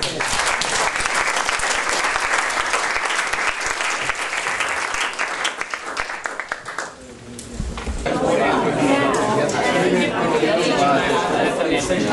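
Audience applause at a university forum on constitutional reform in Burma, loud sustained clapping that thins briefly around the seventh second, then resumes with a denser burst of hand claps and crowd noise.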